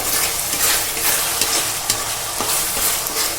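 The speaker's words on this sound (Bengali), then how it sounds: "পেঁয়াজটা সুন্দর করে ভাজা হতে থাক" Onions sizzle steadily in hot oil, a bright crackling hiss with occasional scraping stirs in the pan, close and fairly loud.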